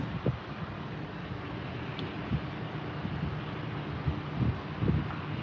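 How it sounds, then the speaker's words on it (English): Steady wind rushes and buffets the microphone on a boat out on the water, a broad continuous roar with occasional low gusts and thumps, no voices. "It's only 70, but it is really windy."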